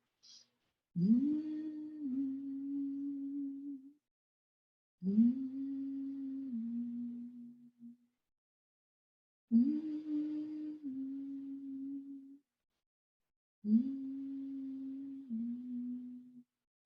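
A single voice hums a low, sustained tone of gratitude during prayer, four separate phrases of about three seconds each, evenly spaced with quiet pauses between them, close and soft.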